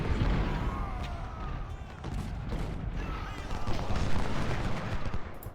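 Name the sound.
artillery and gunfire in Ultimate General: Civil War video game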